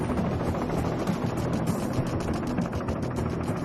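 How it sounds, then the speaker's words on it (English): A helicopter's rotor blades beat in a fast, steady chop over a dense engine roar, loud and continuous throughout. "Most rotor noise is caused by the tips of the helicopter's blades moving through the air at supersonic speed"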